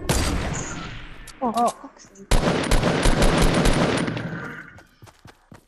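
Gunfire in the video game Fortnite: a few scattered shots and a short exclamation from a player, then a dense, rapid burst of automatic fire that rattles for about two seconds before thinning into isolated shots.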